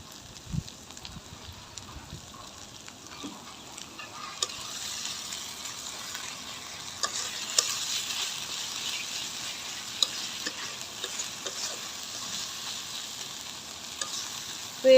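Chepa dried fish stir-fried with salt in oil gives a soft, continuous sizzle with scraping stirs and occasional spoon knocks, fairly quiet and close, building slightly midway and running on steadily without talk.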